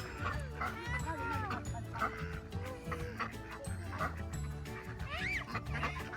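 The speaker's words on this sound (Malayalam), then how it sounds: "നിറച്ച് താറാവാണ് അവിടെയുള്ളത്" Wild ducks of many colours quack and chatter in a busy flock beside a lake in Whanganui, with calls overlapping continuously and voices talking among them.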